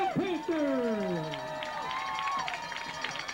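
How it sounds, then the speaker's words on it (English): A home crowd at a high school football game cheers and yells loudly, with rising and falling shouts and whistles from many voices, close and continuous for a few seconds. "home crowd is all fired up"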